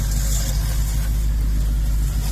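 A toy Dodge Challenger slot car running on its track, giving a steady, continuous motor whir with a low hum, loud and close, with no break throughout.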